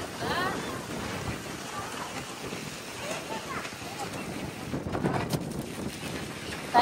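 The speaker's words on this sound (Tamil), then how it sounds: "ஃப்ரெண்ட்ஸ் செம்மையா காத்தடிக்குது ஃப்ரெண்ட்ஸ்" Strong wind blows at a dam viewpoint over a reservoir with low water. A steady, moderate rush of wind buffets the microphone continuously, with brief louder gusts near the end.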